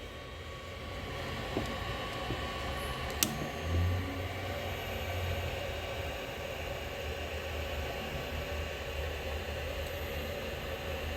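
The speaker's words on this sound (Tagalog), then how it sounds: "okay lang yung ikot ng dalawang fan." Two cooling fans on a solar charge controller whir in a steady, even broadband hiss close by. A faint click sounds once partway through, with no talking.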